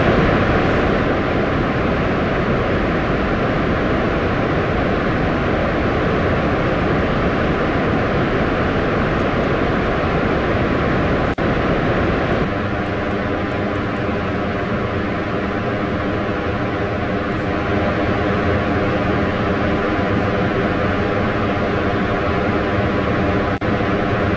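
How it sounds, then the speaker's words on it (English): A rocket engine roars at liftoff in the Kerbal Space Program video game, a loud, dense, continuous rumbling blast that holds steady, then shifts to a smoother tonal drone partway through, with no talk. "Alright, 3, 2, 1, liftoff."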